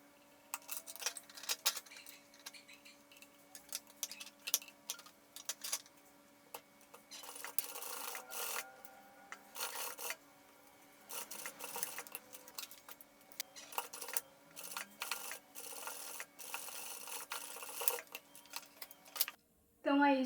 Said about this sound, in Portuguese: E aí eu vou lá para a máquina reta e eu passo esse meu calcador, ó, bem rente aqui desse dentinho